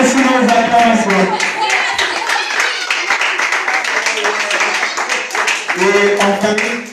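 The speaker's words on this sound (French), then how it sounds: "Est-ce qu'on peut encourager notre coach sur nos acclamations?" A crowd at a draw event cheers and claps for the coach, with scattered hand claps and shouting voices blending into a lively, loud din that stays fairly even throughout, while people call out over it.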